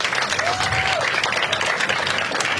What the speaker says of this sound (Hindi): मामा और एक बार सब लोग अपने आप के लिए ताली बजा दो।